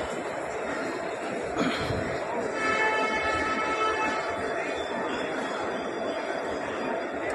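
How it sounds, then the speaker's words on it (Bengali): A train pulls out of a station with a continuous low rumble of rolling wagons, under the chatter and occasional laughter of passengers. "ড্রাইভার সিগন্যাল দিয়ে দিয়েছে ট্রেনটা ছেড়ে যাচ্ছে"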